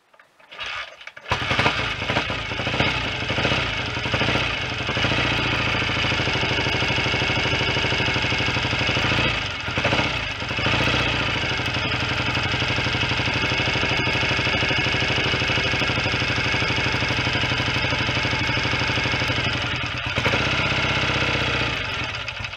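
A BSA A65 twin motorcycle engine with new carburettors and electronic ignition runs unevenly on one cylinder, a loud, steady, lumpy idle that continues throughout with no talk.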